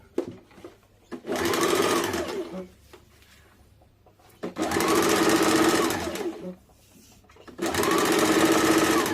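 A sewing machine stitches front and back blouse panels together in three loud, sustained runs of whirring stitches, separated by short pauses with soft handling noises.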